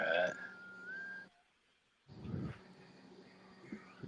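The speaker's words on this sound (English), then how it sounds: "Did you guys hear the whistle?" A single steady, high whistle tone rings out for just over a second, then breaks off into a short pause and muffled voices talking.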